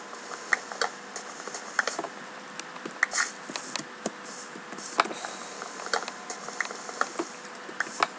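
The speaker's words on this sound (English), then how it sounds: "Chopping a tree, breaking its back, and taking its, well, possessions, I guess, its trunk." Repeated woodcutting taps as a tree is chopped by hand in Minecraft, sharp clicky hits at an uneven pace over a faint buzzing background, fairly quiet and with no talking.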